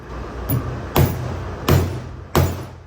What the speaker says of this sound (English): we're gonna hammer it with the socket